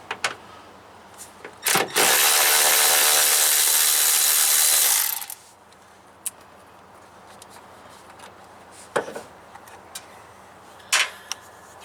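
An older cordless Milwaukee drill with a tiring battery drives a screw into the wiper assembly of a 1991 GMC Jimmy: one loud whir of about three seconds, then quiet clicks and handling noises.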